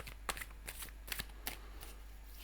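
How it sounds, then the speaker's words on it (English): Tarot cards being shuffled by hand, a series of crisp riffling bursts at irregular intervals with a sharper flurry at the end, close and fairly quiet with no talking. "They're saying I may shuffle a little bit more."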